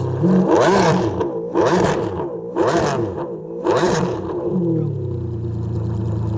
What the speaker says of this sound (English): Give it some more revs.